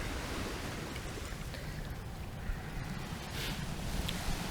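Choppy water and waves whipped by wind along a Japanese shore as a storm rolls in, a dense, steady roar of surf and gusting wind buffeting the microphone throughout.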